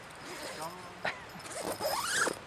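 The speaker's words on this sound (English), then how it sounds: "I can't find the zip to get out." Zipper on outdoor hiking gear being pulled open in several rasping strokes, close and fairly loud, with a final longer rising zip; a voice is also heard faintly underneath.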